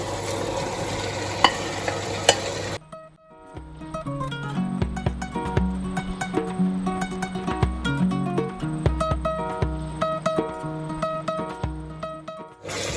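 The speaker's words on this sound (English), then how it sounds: "we are going to go on and add our diced vegetables in" Diced vegetables going into a hot pan for Gambian fish yassa: a faint hiss at first, then after a short pause a loud continuous sizzle with repeated clinks and scrapes of stirring; no talking.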